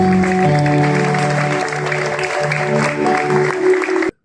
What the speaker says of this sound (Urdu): ہم زوردار تالی بجاتے ہیں